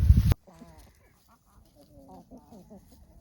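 Chickens cluck and chatter in short, moderate bursts after a brief loud thump at the start, a small flock fussing over treats close by with no talking.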